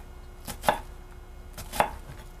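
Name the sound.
knife chopping an onion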